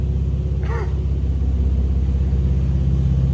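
A Lexus engine with new exhaust headers idles close by with a steady, deep rumble and a throaty pulsing exhaust note, and a brief voice is heard over it.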